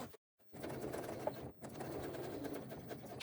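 A sewing machine back stitches through a crossbody bag's lining, running briefly, pausing a moment, then stitching again in a quiet, close, even whir.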